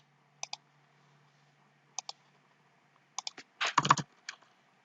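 Typing code on a computer keyboard, with a few sparse single key clicks, then a quick cluster of keystrokes, close and crisp in a quiet room.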